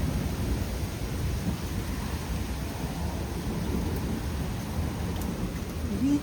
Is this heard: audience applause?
no